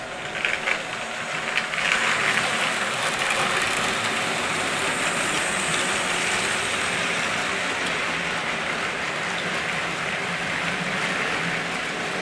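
A long model circus train with a giraffe truck at the end makes a quick run past on its track, a steady rolling rumble and rattle that stays loud and continuous throughout with no talking.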